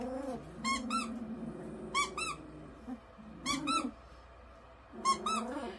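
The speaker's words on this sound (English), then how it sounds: "let's see how they do with this little squeaky toy" A soft squeaky dog toy squeezed in four separate short bursts of high squeaks, spaced about a second apart, with low snuffling and shuffling from golden retriever puppies between them.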